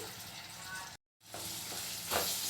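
Onions, curry leaves and chilies frying in oil with salt in a pan give a steady, close sizzle that cuts out briefly, then returns with a louder burst as the mixture is stirred.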